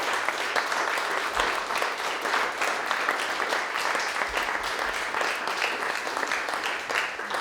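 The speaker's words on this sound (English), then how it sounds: "And then applause for the translators." Warm, continuous audience applause for translators at a translation reading event, many hands clapping in a close, steady wash that barely varies over several seconds.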